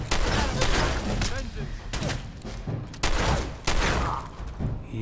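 Shotgun blasts in the Fallout 4 VR video game, a series of sharp loud booming shots spaced irregularly with rumbling tails, close and punchy, with a voice talking between them.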